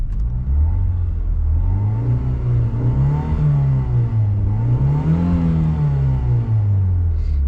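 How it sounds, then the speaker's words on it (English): A Honda EF sedan engine revs up and down twice in smooth, rising and falling swells, loud and close, with no talking. "Let's give it a couple of revs."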